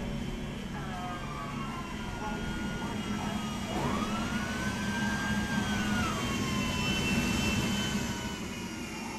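A parked jet plane's engine roars and whines outside a hangar in Grand Theft Auto 5, a loud sustained turbine drone with rising tonal whistles over a steady rumble.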